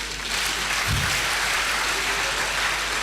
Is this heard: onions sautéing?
no